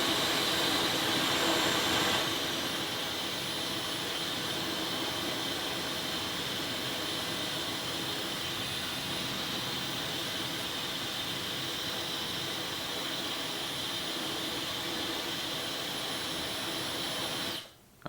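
A Dyson Supersonic Professional Edition hair dryer blows cold air at its no-heat setting: a steady, close, whooshing rush of airflow with a faint high whine, a bit louder at the start, running alone and cutting off at the end.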